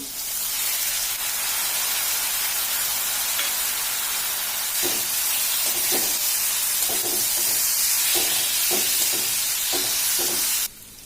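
Sprouted moth beans frying in spices with coriander powder, giving a loud continuous hiss and sizzle; halfway through, a run of rhythmic stirring scrapes begins, then the sound cuts off abruptly near the end.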